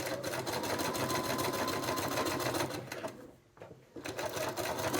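A sewing machine stitches through the seam allowances and facing of trousers, a loud, close, rapid mechanical whir. It slows and dips briefly near the end, then runs again at full speed.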